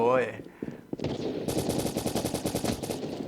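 An M4 rifle in Call of Duty Mobile fires loud, close, rapid bursts of automatic gunfire, with rhythmic shots running for several seconds just after a brief voice at the start.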